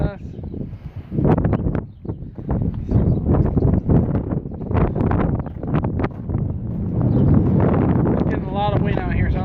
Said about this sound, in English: Getting a lot of wind out here